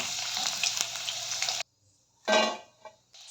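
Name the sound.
chicken pieces frying in oil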